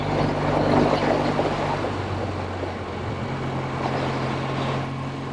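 1964 Triumph Bonneville T120 motorcycle engine running while downshifting into third, a steady loud throaty drone with a shift in pitch partway through, heard up close without talk.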